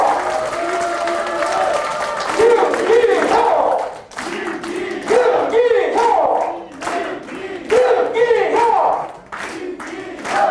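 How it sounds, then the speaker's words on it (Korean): At a People Power Party members' meeting, a crowd greets a lawmaker with loud clapping and rhythmic shouted chants, the cheers rising and falling in repeated bursts over steady applause, with a voice on a microphone heard among them. "여러분 큰 박수와 함성을 부탁드리겠습니다."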